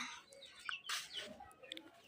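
Short clucks and chirpy calls from a fighting-breed hen come in scattered bursts at close range, fairly quiet, with no talking.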